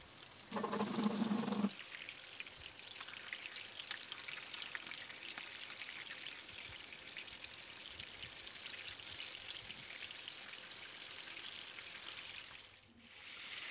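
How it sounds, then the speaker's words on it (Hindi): Mutton seekh kebabs fry in hot oil over a medium flame, a steady close hiss and crackle that swells loudly as they go in, then settles into an even sizzle for many seconds. "इसमें डाल देते हैं कबाब इसको हम मीडियम फ्लेम पे फ्राई करेंगे"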